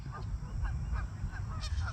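Repeated harsh honking from several geese by a pond at an RV park near Lafayette, Louisiana, fairly distant, over a constant low background rumble with no talking.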